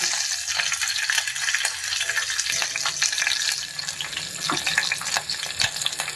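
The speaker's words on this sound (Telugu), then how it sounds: "చిట్టపట్టలాడుతుంది కాబట్టి మూత పెట్టేసుకోవాలి" Green chillies fry in hot oil in a pan with a continuous loud sizzle and crackle, dense spattering pops throughout, heard close with no talking.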